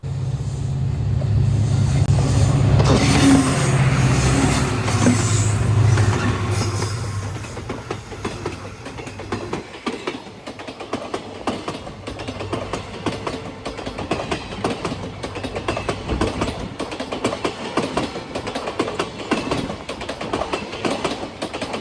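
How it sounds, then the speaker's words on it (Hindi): A train at Badarpur railway station in the evening passes close by, first a loud rumbling roar, then a long run of rhythmic wheel clatter over rail joints that fades somewhat. "शाम के देख लो बदरपुर रेलवे स्टेशन कुछ ऐसा बोले"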